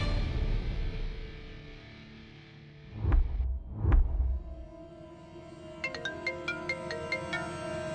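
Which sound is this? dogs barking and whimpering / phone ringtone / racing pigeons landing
phone ringtone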